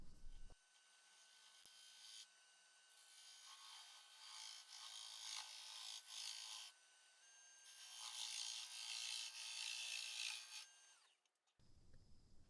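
A natural-edge maple burl hollow form is parted off on a wood lathe, the tool scraping and rasping in long bursts with short pauses, loud and close, ending with a thud as the piece comes free.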